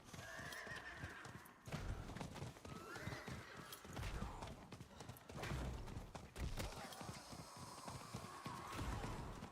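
In the video game Diablo 4, a horse whinnies several times over the steady clip-clop of galloping hooves, faint and continuous throughout.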